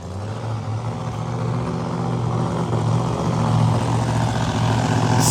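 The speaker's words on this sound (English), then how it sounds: "Scotty Wildgus zipping by Smokey's Garage Ford Mustang." A Pro Mod Ford Mustang drag car from Smokey's Garage races past at a drag strip event, its engine a loud, sustained roar that swells and holds throughout.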